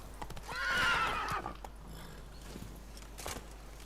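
Horse in The Witcher 3 letting out a loud close whinny, followed by hoofbeats clip-clopping as it moves off.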